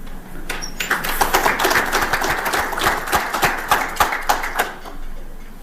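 Applause from an audience at a WRC Safari Rally gala in honour of Kenya Commercial Bank, a burst of steady clapping that swells quickly, holds for several seconds, then tapers off.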